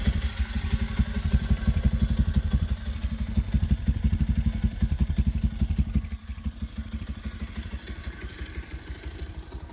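A Pulsar 150 motorcycle with a newly replaced ABS tone ring, ridden with a steady, close, low engine thrum and rapid exhaust pulses that ease off partway through, with no talking.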